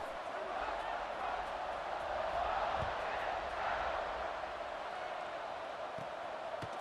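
A stadium crowd in a football video game roars steadily as a kickoff approaches, a broad continuous wash of cheering noise with no breaks.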